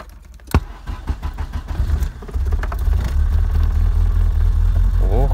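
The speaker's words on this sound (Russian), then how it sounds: "Ох, как она завелась." A Volkswagen Passat B3 engine cranks and catches after a few seconds of rattling and clicks, then settles into a steady low idle rumble close by.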